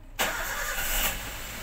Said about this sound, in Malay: Oke, kita hidupkan engine.